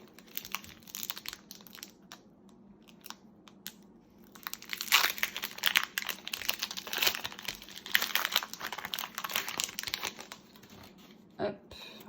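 A Pokémon card booster pack from a Ho-Oh Brilliant Legends box being torn open, with crinkling foil and tearing bursts in the middle and a voice talking over parts of it.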